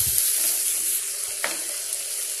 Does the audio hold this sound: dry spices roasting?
yes